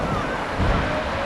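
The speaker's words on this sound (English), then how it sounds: "the waves are coming in a little bit" Ocean waves roll in at Playa de Gueirua beach in Asturias, a close, continuous wash of surf that swells briefly in the middle, with wind buffeting the microphone.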